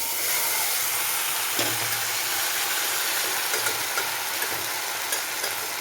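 Cooked plantain and beans stirred in a hot pan give a steady frying hiss with soft scraping strokes, close and continuous, with no talk.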